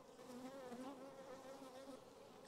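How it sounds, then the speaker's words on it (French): Honeybees buzzing around an open hive during a spring inspection: a steady, close, wavering hum of many bees with slightly shifting pitch, heard alone without talk. "les abeilles là sont calmes"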